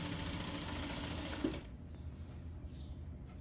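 Sewing machine stitching knit fabric with pom-pom trim, a continuous close, steady buzz that stops abruptly partway through, leaving only faint room noise.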